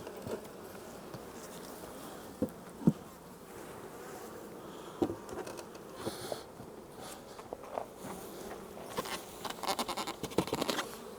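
Honey bees buzz around a beehive during a spring honey harvest, a steady dense drone from many bees close by, with occasional soft knocks and handling sounds and no talk.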